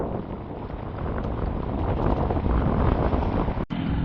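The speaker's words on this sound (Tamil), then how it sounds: "பாருங்க நல்ல ஒரு காத்து அடிச்சு கொண்டு இருக்குது" Strong wind gusting hard during heavy rain in Jaffna, a loud continuous roaring blast buffeting the microphone throughout, with a brief cutout near the end.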